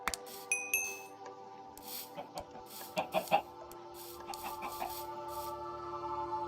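Minecraft chickens cluck in short, scattered bursts over a steady electronic hum and a few brief tones, like game sound effects.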